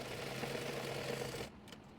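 A sewing machine runs steadily while hemming the folded sleeve of a chemise, a continuous close mechanical whir that cuts off near the end, followed by a few faint clicks.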